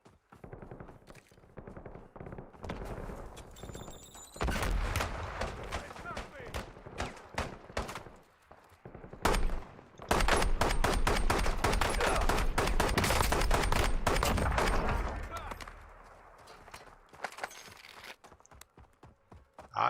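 Gunfire in the video game Warzone, bursts of rapid shots and sustained automatic fire that swell and fade, with a voice talking over parts of it.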